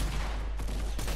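Shotgun blasts in the Fortnite battle royale game, a dense burst of loud repeated gunfire filling the short moment with no voice over it.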